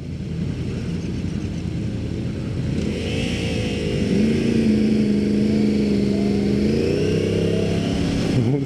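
A liter bike at a motorcycle show is ridden at speed, its engine drone steady, then climbing in pitch as it accelerates, loud and close with no talking.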